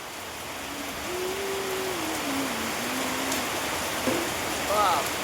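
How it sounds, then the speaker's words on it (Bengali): Heavy rain pours steadily, a loud, dense hiss of drops on surfaces filling the whole clip, with a person's voice speaking under it. "প্রচণ্ড বৃষ্টি হচ্ছে, প্রচণ্ড প্রচণ্ড"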